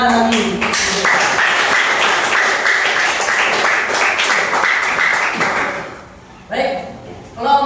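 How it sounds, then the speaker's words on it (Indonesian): A classroom of junior high students claps together after a group presentation, a dense burst of applause that runs for about six seconds then fades, followed by a couple of short sharp knocks or bumps. "Tepuk tangan lagi."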